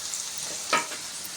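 Vegetables including beans, carrot and capsicum stir-fried for mushroom fried rice, with a close, steady sizzle and a couple of sharp scraping stirs of the spatula.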